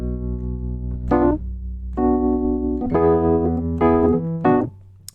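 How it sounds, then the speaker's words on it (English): A Wurlitzer 140B electric piano is played alone, with a run of separate chords and notes that ring out with warm, bell-like tone and a clear, close sound. "It's the sound of a Wurlitzer. 140B."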